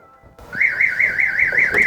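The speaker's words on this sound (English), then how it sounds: "With a little bit of movement, the alarm's going to go off" A Clifford alarm on a Ford Transit van starts up after a brief silence and wails steadily, a loud warbling siren rising and falling in a fast, even cycle.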